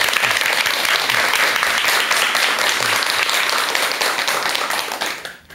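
An audience at a lecture on the bodhisattva's life gives a full round of applause, dense and steady clapping throughout that fades out at the end.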